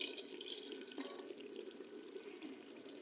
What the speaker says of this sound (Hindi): तो अब मैं फिर थोड़ा सा पानी इसके अंदर डालने लगी हूँ।